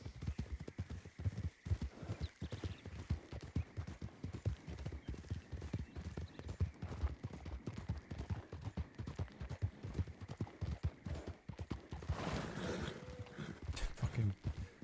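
Horse hooves galloping in a video game give a rapid, continuous clip-clop that runs throughout, with faint background game sounds.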